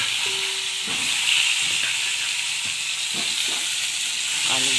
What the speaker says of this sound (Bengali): আলুগুলো একটু লাল লাল ভাজা হয়ে আসবে